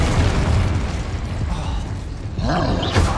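A Bombarda blasting spell in Hogwarts Legacy goes off as a loud, close boom with a rumbling roar, followed by crackling debris and a second burst near the end.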